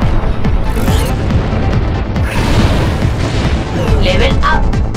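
Heavy booming blasts and rumbling debris from a bomb in the sci-fi video game Debris Infinity fill the mix continuously, loud and dense, with a voice briefly audible over the noise.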